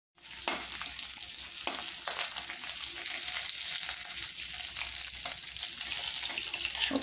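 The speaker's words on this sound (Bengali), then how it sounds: "তার জন্য পেঁয়াজগুলোকে হাফ করে কেটে নিয়েছিলাম, দিয়ে তেলে এভাবে কিছুক্ষণ আমি ভেজে নিলাম।" Halved onions fry in mustard oil for chicken tikka masala, a constant bright crackling sizzle with a few spoon knocks early on, close and steady.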